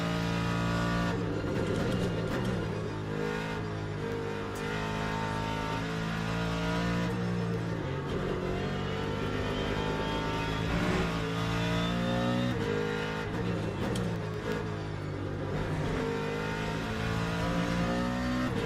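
A GT3 race car engine in the Le Mans Ultimate racing game revs up through the gears again and again, with sharp downshift blips and a loud, close, rasping drone.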